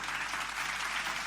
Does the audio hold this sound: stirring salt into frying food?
no